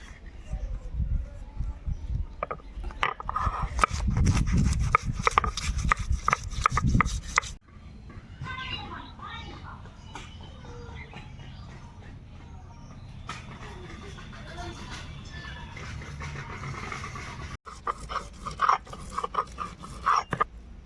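Ginger and garlic are ground together into paste, with loud rhythmic scraping and crushing strokes close by, followed by quieter rubbing, with a voice speaking at times.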